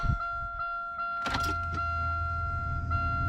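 A car being started with the key: a quick jangle and click near the ignition is followed by a steady low engine hum, with a constant electronic whine in the background.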